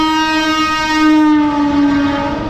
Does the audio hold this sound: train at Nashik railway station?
yes